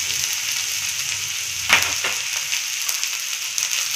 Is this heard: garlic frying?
yes